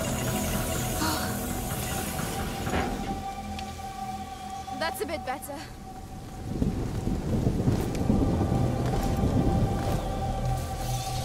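Thunderstorm in A Plague Tale: Innocence: steady heavy rain with deep rolling thunder that swells toward the end, a mid-clip dip with some tonal creaks, and voices faintly present underneath.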